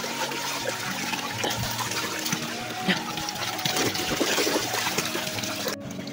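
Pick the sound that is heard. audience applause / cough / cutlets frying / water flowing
water flowing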